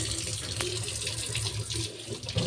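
Running tap water splashing steadily while a kitchen floor area is rinsed and washed down, a continuous hiss close by with no talking.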